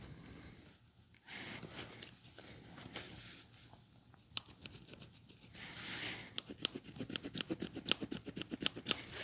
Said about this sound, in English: A little hard to write on the rubber with a pencil.